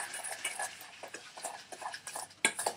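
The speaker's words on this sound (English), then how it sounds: "Then just mix it up until it's completely blended together." Strawberry jam mixture of strawberries and sugar being stirred until blended, giving soft, irregular scraping and sloshing strokes at close range, quiet and continuous with a sharper clink near the end.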